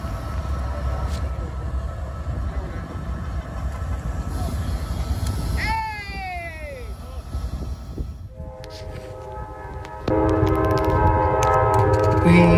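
An intermodal freight train from Harrisburg, Pennsylvania to Chicago, Illinois passes through Elkhart, Indiana, with a steady rail rumble, a bending horn or whistle sweep partway through, and a sustained tonal horn near the end.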